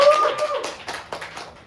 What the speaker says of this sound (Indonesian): Tepuk tangan dulu dong buat Surya dan Raisa.